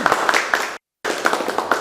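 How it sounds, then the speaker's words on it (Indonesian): Applause from an audience closing a vocational high school teaching factory presentation, a dense patter of clapping that cuts out briefly and then resumes. "tepuk tangan untuk kita semua terlebih dahulu"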